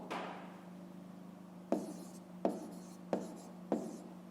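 A pen moves across paper while a fifth-grade math word problem is worked out: a brief scratchy stroke, then four crisp taps spaced under a second apart. Quiet and close, with no talk.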